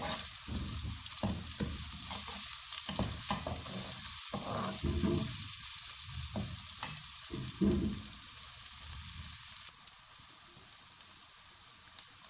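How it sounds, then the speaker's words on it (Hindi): Ginger and garlic fry in oil with lightly browned onions in a pan for potato spinach saag, producing a close, steady sizzle broken by spoon-stirring scrapes and clatters, with no talking. "इसको भी इस तरह फ्राई कर लेंगे।"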